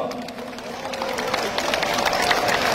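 A crowd of delegates at a Democratic Party national convention breaks into welcoming applause, faint at first under a voice, then swelling into a dense, close patter of many hands that keeps building to the end.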